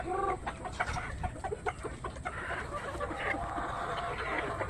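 Native chickens clucking close by in a farmyard, a busy overlapping chorus of clucks and short calls with a steady outdoor background.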